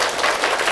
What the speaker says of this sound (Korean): 박수 한 번만 쳐주시겠어요?